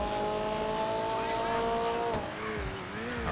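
Engine of a McLaren sports car in GTA 5, a loud sustained high-revving whine with pitch shifting and dropping as it drives.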